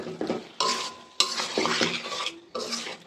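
A spoon stirs garam masala through a large batch of vegetarian noodles in a pan, giving bursts of close scraping and metal clinks that stop and start, over a light sizzle and with no speech.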